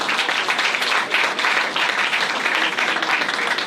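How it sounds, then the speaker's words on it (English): An outdoor audience at a groundbreaking ceremony for Elizabeth Berger Plaza breaks into sustained applause, a thick, even patter of many hands clapping together. "let's give them a round of applause as well."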